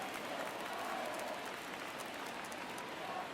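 A stadium crowd in the MLB The Show baseball video game applauds and murmurs. It is a steady, dense wash of clapping and cheering at moderate loudness, like a distant ballpark audience, with no clear speech.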